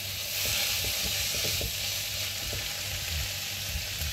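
Tomato puree from two tomatoes sizzling in a pan for lasagna, a loud, dense frying crackle with stirring scrapes running continuously and close, no voices.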